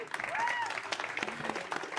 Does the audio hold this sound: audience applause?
yes